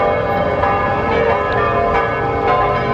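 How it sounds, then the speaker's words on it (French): Church bells ringing at Piazza del Popolo in Rome, a loud, continuous peal with overlapping tolls ringing out steadily across the square. "on a la chance d'entendre les cloches"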